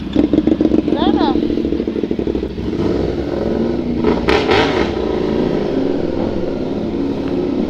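Motorcycle, a 450SR fitted with an Austin Racing full system exhaust, revving loudly with a rough, throbbing engine note and sharp throttle blips, heard close by in a mixed outdoor scene with voices talking.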